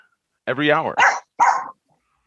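A dog gives a few close, loud barks and yelps in quick succession, then falls silent.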